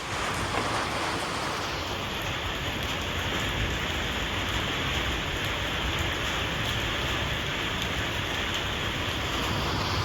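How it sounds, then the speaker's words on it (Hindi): Heavy rain pours down at night in Dehradun as a dense, constant hiss and patter that fills the whole stretch. It is loud and steady with no voices. "रात को 8 बजे यहाँ हो रही है हमारे देहरादून में भयंकर बारिश।"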